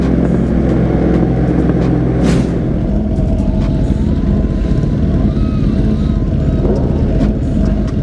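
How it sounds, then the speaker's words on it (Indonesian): A BMW R nineT boxer-engine motorcycle drones loudly while riding, its engine note rumbling steadily under heavy wind buffeting, with a brief louder surge early on. "Nah, karena mesinnya boxer, jadi kalau dipakai ngegas pun agak geter."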